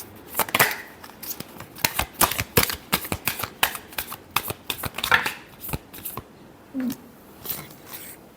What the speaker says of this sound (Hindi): एक शफल और करते हैं